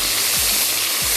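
Chopped tomatoes hitting golden-fried medium onions and spices in hot oil give a loud, steady sizzle that fills the whole moment without a break.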